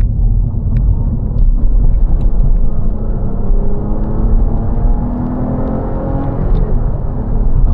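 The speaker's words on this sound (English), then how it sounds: "Okay, let's hit the gas. Now we are at 2nd gear with the 30 kilometers per hour" A Ford Mondeo III ST220 accelerates hard in second gear from about 30 km/h on a road in Taiwan. Steady loud engine drone and rumble rise in pitch across the run, close and continuous, with no talking.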